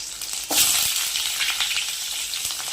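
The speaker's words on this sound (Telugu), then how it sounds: "ఇట్లా వేసేసిన తర్వాత కొంచెం ఆయిల్లో బాగా అట్లా రోస్ట్ చేసుకోవాలండి." Mutton frying in hot oil gives a loud, close, continuous sizzle with a brief stirring clatter early on, and no voices.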